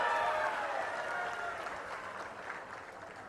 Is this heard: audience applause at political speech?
yes